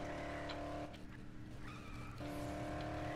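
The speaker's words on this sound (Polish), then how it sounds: "Ryk silnika." A car engine roars in the video game Dead Island, its steady revving tone broken midway by a tire-squeal skid before the engine drone returns, mixed with in-game background sound.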